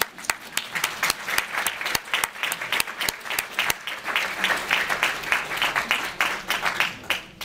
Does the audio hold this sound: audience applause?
yes